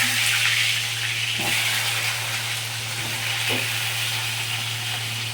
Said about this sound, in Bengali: তেলটি গরম হয়ে গেছে এবার পটলগুলো আমি তেলের মধ্যে দিয়ে দিচ্ছি